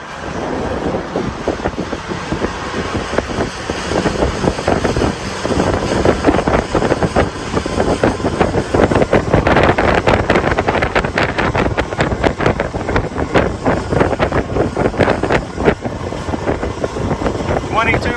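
A bass boat's outboard engine runs at about 3,000 RPM, a steady drone mixed with rushing water and heavy wind buffeting on the microphone, while voices talk over it.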